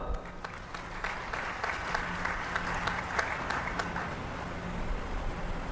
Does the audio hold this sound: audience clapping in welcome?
yes